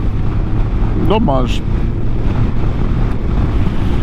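Steady, roaring wind buffeting a helmet microphone while riding a Honda motorcycle through Brussels on a cold, frosty December day, continuous and loud throughout, with a brief spoken word over it.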